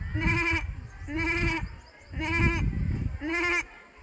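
A student imitates a goat's bleating with his voice, producing four loud, wavering bleats in a row with brief pauses between them.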